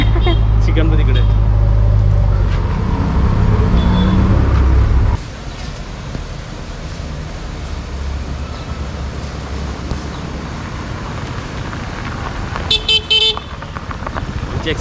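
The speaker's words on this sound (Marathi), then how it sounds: "एक्सप्रेस गाडी आलेली आहे." A vehicle passes close by on the road with a loud, heavy engine rumble lasting several seconds, then fades into steady traffic noise; a short burst of horn toots sounds near the end.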